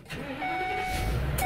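A moving truck's engine cranks and turns over, settling into a low rumbling idle close by.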